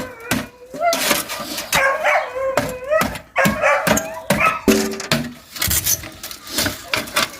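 A dog barks repeatedly in short, sharp bursts up close, some yips rising higher, with brief pauses between barks.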